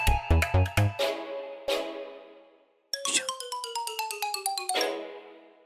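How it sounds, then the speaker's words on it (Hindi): A phone rings with an incoming call, playing a bright melodic ringtone of chiming notes, then a short silence and a second run of quick rising tones, loud and close. "मुझे एक बहुत जरूरी फोन कॉल आ रहा है"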